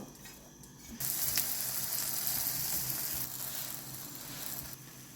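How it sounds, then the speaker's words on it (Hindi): An aloo masala paratha fries in oil on a tawa. The sizzle is soft and steady, swelling after the first second and then holding at a low, even hiss. "अब ऑयल हल्का सा डालेंगे।"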